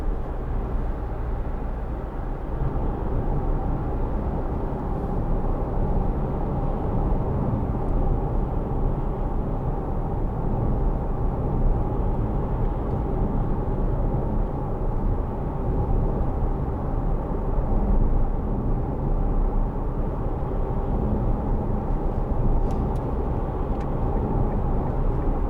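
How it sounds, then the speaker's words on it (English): Steady broadband tyre roar inside a 2010 Kia Sportage 2.0 CRDi First Edition on the road, a constant low rumble that holds even and uninterrupted with no talking. "Little bit of tyre noise"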